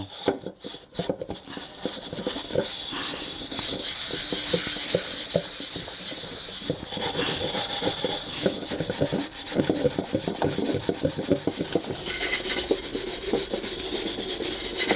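Continuous, rapid scrubbing of a burnt pan bottom with a scouring pad and soap, a harsh rasping rhythm of back-and-forth strokes, close and unbroken.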